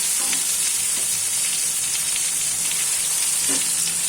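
Bhola fish curry fries and is stirred in a pan, giving a loud, continuous sizzle with soft scraping stirs throughout and no voices.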